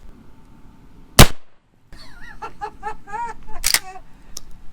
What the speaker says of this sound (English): Rubber bullet shot number 2